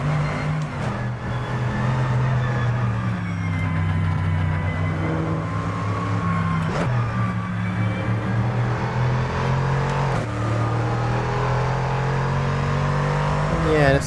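A damaged Dodge race car in a GT2 racing game drones steadily through a long stretch, engine pitch rising and falling with gear changes and throttle, with a voice talking over it at times.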